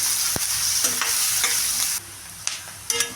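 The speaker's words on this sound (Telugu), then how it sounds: "దీంట్లో కొంచెం పసుపు వేసేసి బాగా కలుపుకోండి ఇది కొంచెం ఉల్లిపాయ కొంచెం వేగాలి" Onions with turmeric fry in a hot pan with a loud, continuous sizzle, broken by sharp scrapes and clicks of a spoon stirring them.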